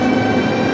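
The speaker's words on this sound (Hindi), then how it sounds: "बहुत स्मूथ है ट्रेन" Moscow local train riding smoothly, a steady loud rumble of the carriage with a constant mechanical hum throughout the short stretch, no voices.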